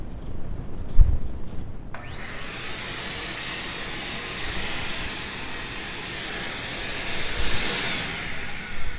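After a brief quiet moment, a vacuum cleaner starts up and runs at a loud, steady whine, with a constant hum that continues to the end.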